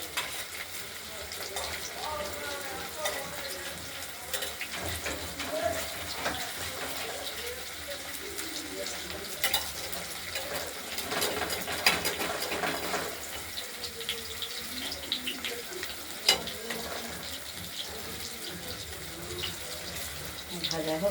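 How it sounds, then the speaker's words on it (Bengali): Paneer pieces frying in oil give a continuous sizzle with stirring and scraping, mixed with running water nearby and some faint background voices. "পনিরগুলো ভাজা হয়ে গেছে, আমরা তুলে নিয়েছি থালাতে"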